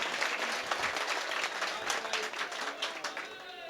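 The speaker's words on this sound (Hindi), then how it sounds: "थोड़ा सा ताली उली बजा के बताएं कि सुनना चाहते हैं" An audience at a poetry recital gathering in Mhow, India, applauding, a dense burst of clapping hands that stays steady for a few seconds.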